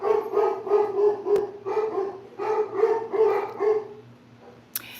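Several dogs indoors barking repeatedly in loud, overlapping bursts for about four seconds, then falling quiet apart from a brief click at the end.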